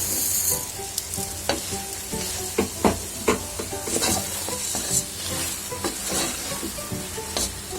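Soaked pearl millet sizzles and fries in a pan while being stirred, with steady crackling hiss and repeated scraping clinks of a spoon against the pan, close and clear.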